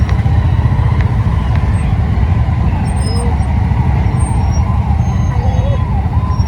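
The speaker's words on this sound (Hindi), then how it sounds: "देख लो ट्रैफिक मिल गया है, हमारे सोनिया विहार का जाम।" Dense, steady road traffic in a jammed street in Sonia Vihar, Delhi, with engines and horns rumbling continuously near and loud, occasional high tones above, and no talking.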